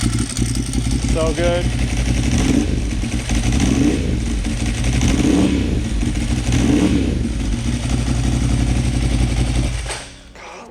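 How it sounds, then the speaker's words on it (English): A sport motorcycle with a dry clutch idles and revs in a shop, its engine swelling and easing in repeated waves over a constant clattering rattle. The sound is loud and close, someone speaks briefly, and the engine dies near the end. "Oh, you can hear that dry clutch?"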